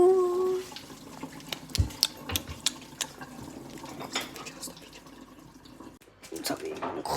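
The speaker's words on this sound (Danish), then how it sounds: "Nu lader vi lige vandet ud." Water is drained from a pot of spicy noodles in a home kitchen, with pouring and splashing under clattering pot, lid and utensil knocks and a person talking.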